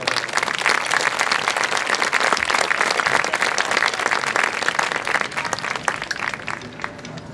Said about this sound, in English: Let's give these students a big round of applause for all their hard work.